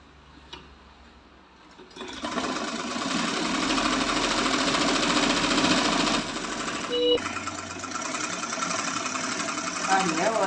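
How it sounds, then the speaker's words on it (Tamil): A sewing machine stitches a folded hem on a pillow cover. After a quiet start it kicks in at about two seconds with a loud, steady, rapid whirring chatter that runs close-up for roughly eight seconds, with a brief dip near seven seconds. "நான் ஒரே மடக்காக மடித்து அடிக்கிறேன்"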